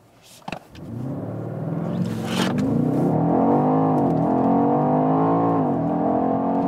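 A BMW X5M or X6M SUV accelerates hard toward 65 mph, the engine note rising steadily from a low rumble to a loud, sustained roar after a brief click at the start, with no talking.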